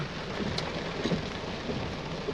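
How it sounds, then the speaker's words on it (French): Heavy rain pouring down steadily during a thunderstorm near the Peru border, a dense continuous wash of rainfall with a faint low rumble of thunder underneath. "C'est l'orage."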